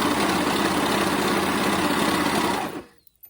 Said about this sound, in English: I'm going to go ahead and sew.